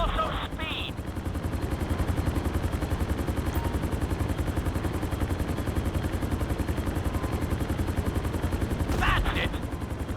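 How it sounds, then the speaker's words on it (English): A helicopter flies the marked city course at flight school in the video game GTA 5, its rotor chopping steadily and loudly throughout, with a brief higher clatter near the start and again near the end. "Let's go on a short tour of the city, and we'll see how well you handle the chopper."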